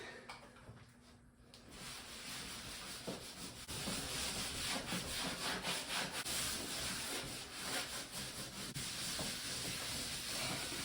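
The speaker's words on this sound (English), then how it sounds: "All the parts that didn't come off in one piece, I have to scrape." Wallpaper being scraped off a wall: a steady, dense rasping scrape that runs almost the whole time, growing louder and more rhythmic partway through, with no voices.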